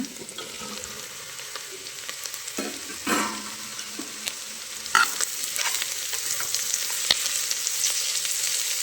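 Onions and mushrooms fry in a pan, sending up a steady bright sizzle with occasional scraping stir strokes and clinks of a utensil against the pan, close and continuous, with no talking.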